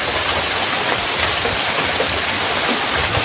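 Heavy rain pours down in a dense, unbroken hiss that stays loud and constant from start to finish.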